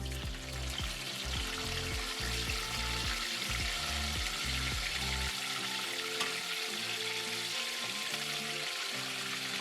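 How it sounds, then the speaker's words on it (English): Beef frying in hot oil with plenty of pepper while making Buka stew, a steady dense sizzle running throughout, with heavy low rhythmic thumps in the first half that drop away, leaving the crackle alone. "the oil is hot now, and I'm going to be frying the beef in briefly"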